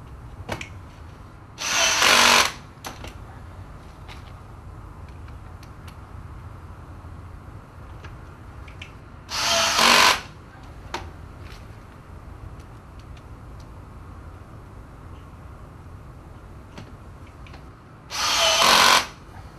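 A power drill fitted with an extension bit drives screws into brackets in three short, loud whirring bursts spaced several seconds apart, with quiet room noise and faint clicks between them.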